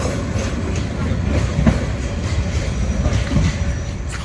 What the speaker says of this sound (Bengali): ট্রেনটি অনেকটাই বড়, সেটাই আমরা দেখতে পাচ্ছি